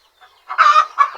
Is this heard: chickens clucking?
yes